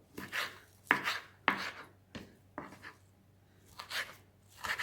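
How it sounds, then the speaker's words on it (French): Fresh parsley being coarsely chopped with a knife on a board, a quiet series of uneven crisp chops and scrapes with short pauses between strokes, close and alone. "on va également hacher grossièrement le persil"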